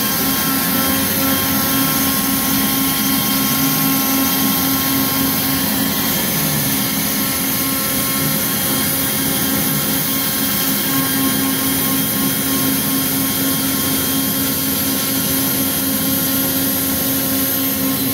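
Shop vacuum pulls CNC cutting dust through a two-piece dust boot on an X-Carve machine, giving a loud, steady whooshing roar that stays constant throughout with no talking.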